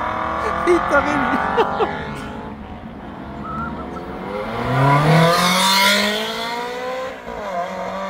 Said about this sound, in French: Ça chante bien les V8 des Modena quand même.